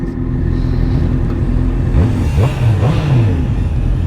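A Honda CB650R E-Clutch motorcycle engine idles with a loud low rumble, then revs in a few quick rising and falling bursts.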